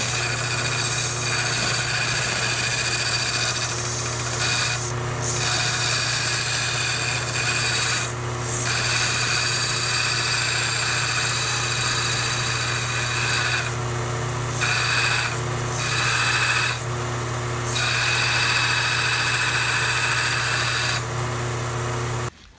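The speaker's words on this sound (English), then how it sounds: "Now, I sand around the entire perimeter of the knife to ensure that everything is square" Steady abrasive sanding around the perimeter of a Dao knife blade, a continuous rubbing grind with a few brief louder strokes, close and alone without talk.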